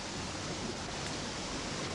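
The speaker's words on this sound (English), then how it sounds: "Somebody opened the sluice so the water doesn't come over the waterfall very much now." Water gushes continuously out of a pipe beside a waterfall at the Golden Valley ochre works, a close, steady rushing wash with no pauses or voices.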